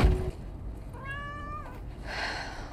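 A cat gives a single clear, drawn-out meow partway through, faint against quiet room noise, followed by a softer breathy sound.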